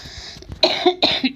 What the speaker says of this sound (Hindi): मुझे बहुत खांसी आ रही